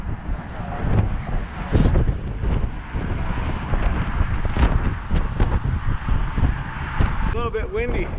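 Strong gusty wind buffets the microphone in a steady low roar high above the Colorado River near the Hoover Dam, with a voice talking intermittently through the blustery noise.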